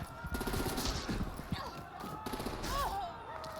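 Gunfire in a Batman video game in which someone is shot: quick bursts of shots, thuds and scuffling close by, mixed with game sounds and brief voices.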